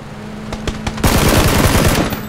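PUBG gunfire: a few separate shots, then a loud, rapid automatic burst that runs steadily to the end, close and dominant.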